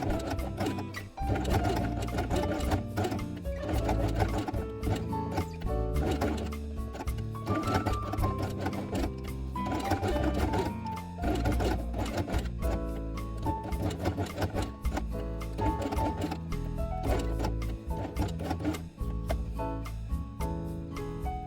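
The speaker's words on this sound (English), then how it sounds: "sew it along the edge with brown thread" A sewing machine stitching felt with brown thread runs steadily, with a fast, even mechanical chatter throughout and no talking.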